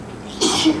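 A single sneeze in a classroom, a short loud burst bursting out abruptly over quiet room tone, close to the microphone, with no talk during it.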